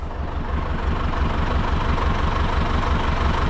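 A tractor engine idles with a steady low pulsing throb, loud and close, running continuously with no other sounds.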